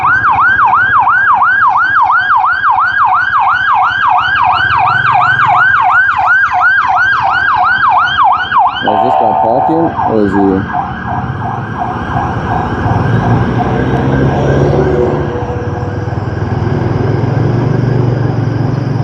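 A loud wailing ambulance siren cycles rapidly up and down, then shifts pitch and fades amid road traffic noise in Hua Hin, heard from a motorbike; someone briefly speaks.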